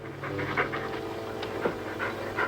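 Heavy, rhythmic panting like a lion's breathing, several loud huffing breaths in quick succession close by, with no talk over it.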